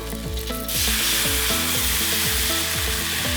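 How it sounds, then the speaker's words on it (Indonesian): Seasoning paste for seblak fries and is stirred in a pan, a loud close sizzle that swells after a moment and holds steady, with faint repeated scraping of the stirring underneath. "Terus diputer-puter dulu biar bumbunya masak."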